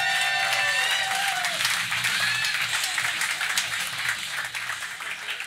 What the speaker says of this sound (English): I'm gonna need y'all to start clapping